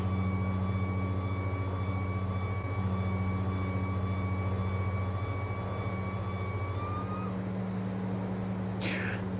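Saab 340 turboprop climbing after takeoff in the flight simulator X-Plane 11: a steady, loud propeller drone with a sustained hum and higher whining tones that hold and then drop away, with a brief chirp near the end.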